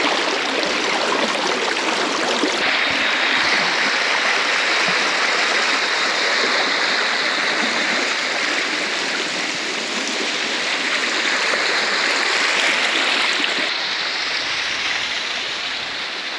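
A mountain stream near Chapeti in the Ilam–Jhapa hills rushes steadily, a dense close-up roar of flowing water that holds even throughout.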